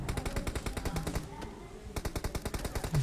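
Rapid automatic gunfire in the battle royale game PUBG, a steady rattling burst of evenly spaced shots that pauses briefly midway, then resumes, fairly close and alone.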